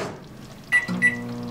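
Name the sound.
microwave oven running, warming spaghetti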